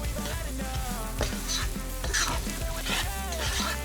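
Chopped onion and peppers fry loudly in hot oil in a pan, a dense continuous sizzle with stirring scrapes and clatter, steady musical tones running underneath throughout.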